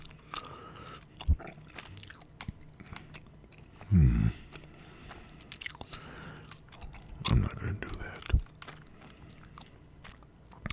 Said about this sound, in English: while I'm chewing gum, I talk more than I chew